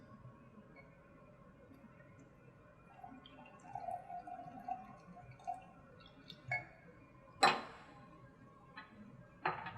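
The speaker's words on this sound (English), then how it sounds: "pour it out, decant." Liquid decanted from a beaker during a copper reactions chemistry lab, heard as soft trickles and drips with a few light glassy clinks, one sharper knock near the end, against a quiet room.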